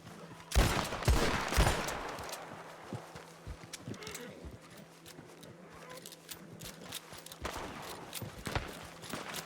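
Rapid bursts of gunfire fired over heads in a Red Dead Redemption 2 roleplay, loud volleys at the start then scattered sharper shots later, with hoofbeats and distant voices mixed underneath.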